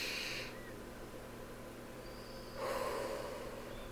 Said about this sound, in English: another deep, deep breath